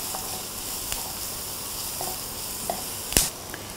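Garlic fries in about half a tablespoon of hot oil in a pan for Thai pineapple fried rice, giving a steady close sizzle broken by a few light stirring clicks and one sharp utensil clack.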